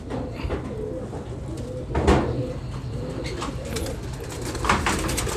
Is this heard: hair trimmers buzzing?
no